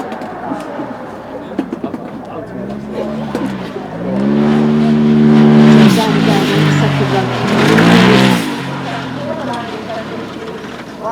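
Single-gear race car running flat out on the Goodwood Festival of Speed hill course, its engine note rising loudly through a long pass and fading, with a commentator talking over it throughout.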